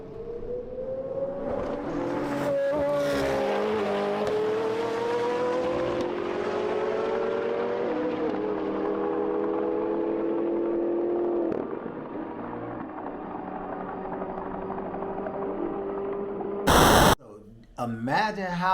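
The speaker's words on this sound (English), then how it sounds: "a F10 M5 has to be to spank on that car in a roll race" Tuned BMW F10 M5 and upgraded-turbo McLaren 765LT run side by side in a roll race, engine tones climbing steadily under continuous loud wind rush, with talking over it and a sharp burst near the end.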